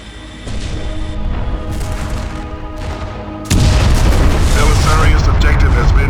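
Warship guns firing in Freespace 2, with heavy booms and explosions that swell into a loud, continuous roar halfway through, layered under a backdrop of music or voice.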